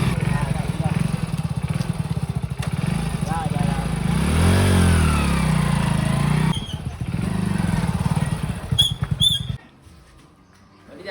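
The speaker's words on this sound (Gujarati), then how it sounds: "નવા બાઇક" A new motorcycle's engine revs and idles close by, its rumble rising and falling steadily before cutting out near the end.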